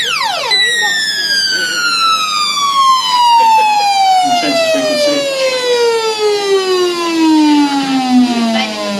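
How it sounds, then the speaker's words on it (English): An old audio sweep generator, played through a PA at a school science fair, produces loud descending frequency sweeps with many harmonics gliding downward, siren-like, over faint background chatter. "So this is an audio sweep device, if it works."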